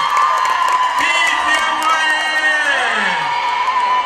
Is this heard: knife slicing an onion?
no